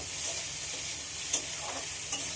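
Chicken being stirred in a frying pan while it is braised, giving a soft, steady sizzle with a couple of brief scraping stirs, close by and with no voices.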